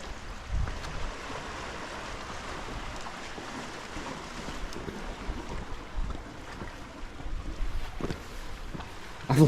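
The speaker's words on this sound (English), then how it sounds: "You can see the water starting to flow in more now." Sea water surging into a coastal cave, Sawney Bean's Cave in Scotland, gives a soft continuous wash and rush of water with faint wind, fairly quiet and even, ending in a brief louder splash.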